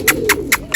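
A pigeon gives four short, evenly spaced calls close by, each a brief bright burst with quiet gaps between.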